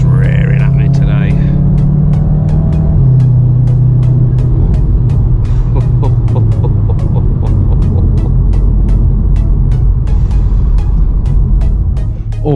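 A Volkswagen Mk7.5 Golf R engine drones loudly and steadily from inside the cabin, its pitch shifting as it accelerates, with faint ticking throughout.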